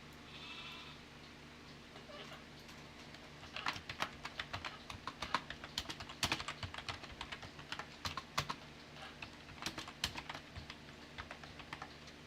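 Keys clatter on a computer keyboard in quick irregular bursts, close and fairly quiet, with an opening stretch of soft background hum before the typing begins.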